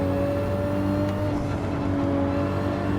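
A Toyota Supra race car engine at Suzuka Circuit in a racing video game, a loud steady engine drone holding a constant pitch, close and alone without talk.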